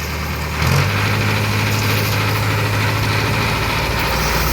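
A tractor pulling a Hardi field sprayer revs up from idle into a steady, loud, low diesel drone that holds close and constant with no talk.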